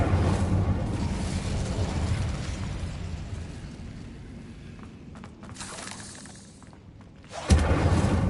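Incendio fire spell cast in Hogwarts Legacy, a loud sustained fiery burst and roar that fades over several seconds, followed by a renewed sharp blast near the end, with no talking.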